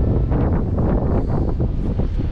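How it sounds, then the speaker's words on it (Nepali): Wind gusts across a riverside beach in Bhutan, buffeting the microphone with a continuous, loud rumble that barely lets up. "हावा चलिरहेको छ"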